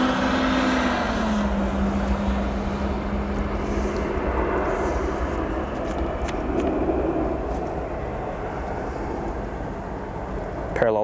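An American Airlines Boeing 737-800 arriving at O'Hare Airport gives a steady broad jet roar, close and loud, with a faint whine gliding downward early on.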